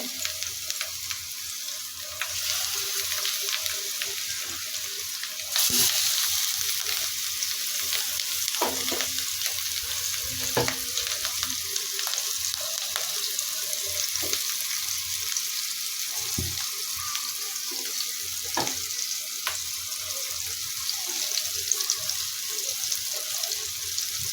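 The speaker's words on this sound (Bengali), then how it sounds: "এখন ভাজবো বিসমিল্লাহ তেল গরম হয়ে গেছে" Food frying in hot oil, a steady loud sizzling hiss that runs throughout with occasional stirring scrapes and clinks, and no talking.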